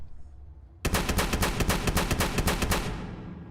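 A rapid burst of about a dozen loud gunshots from a shotgun in Fallout 76, firing back to back for two seconds and then cutting off into a short decaying echo.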